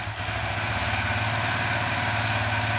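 A Suzuki FU 150 with a bore-up, fuel-injected engine, held at steady throttle, runs loud and close with a constant rapid pulsing drone that never lets up.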